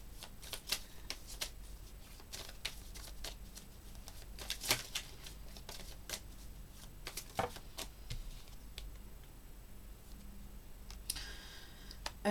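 Tarot cards being shuffled and drawn for a love reading: a steady stream of crisp riffling and soft flicking taps runs throughout at close range, with no voices.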